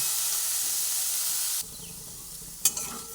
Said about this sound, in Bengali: কিছুক্ষণ নাড়াচাড়া করে করে ফুলকপি কপিটাকে একদম শুকিয়ে নিয়েছি